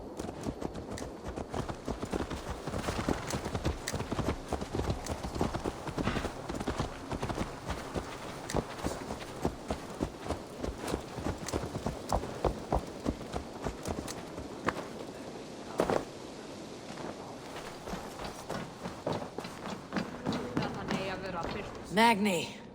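A horse's hooves clip-clop steadily in the video game Assassin's Creed Valhalla, a brisk, even rhythm of close, distinct hoofbeats continuing for over twenty seconds, with a voice talking over part of it.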